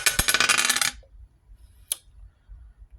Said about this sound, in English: let me roll the dice to see how many we pull